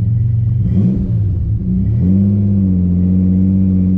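A turbo 3800 Camaro with a manual transmission revs steadily while backing up, its loud, close engine note rising in pitch and settling into a sustained drone.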